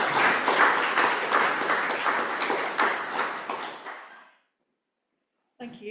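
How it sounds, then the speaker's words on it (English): Audience applause at a winter poetry reading, a dense wash of many hands clapping close and fairly loud for about four seconds, fading out into silence before a voice begins at the end. "So, big round of applause for Emma McKervey."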